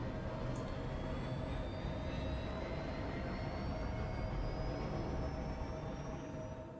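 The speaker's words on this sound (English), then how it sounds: "You guys hear that engine wind up and stuff?" Spaceship engine winding up in Star Citizen, a steady loud roar with thin rising whine tones gliding upward throughout, no talking over it.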